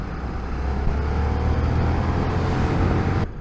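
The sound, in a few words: KTM 1390 Super Duke R motorcycle riding in 4th gear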